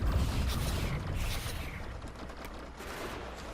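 Grenades blasting in Factorio, a dense, rumbling series of muffled explosions and crackling debris that rolls on continuously at moderate volume, fading slightly before another surge.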